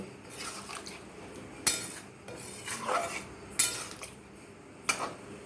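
A metal spoon stirs jackfruit gravy in a pan, scraping softly with several sharp clinks against the metal at intervals, fairly quiet and with no talking.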